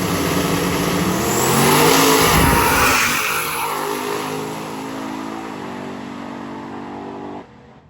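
Twin-turbo LS drag racing truck of about 1,200–1,300 horsepower roars loudly down the strip, engine rising in pitch as it accelerates, then fading into the distance with a long receding drone before an abrupt cut.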